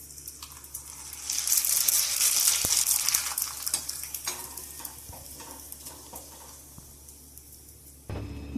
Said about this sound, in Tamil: எண்ணெய் காஞ்சிருக்கு, இப்போ போட்டு பொரிச்சு காமிக்கிறேன் உங்களுக்கு.